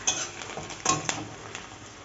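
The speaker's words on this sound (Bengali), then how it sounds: "এটাকে ভালো করে ভেজে নিতে হবে, নাহলে রসুন আদার গন্ধটা ভীষণ বাজে লাগবে খেতে" Garlic and ginger paste fries in a pan for a Bengali fish curry, a steady close sizzle with a few scraping stirs and light clinks of a utensil against the pan.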